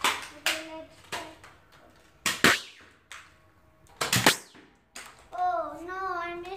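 Sharp toy gun cracks fired at balloons come as several loud, separate snaps spaced through the stretch, with a short squeaky voice-like tone near the end.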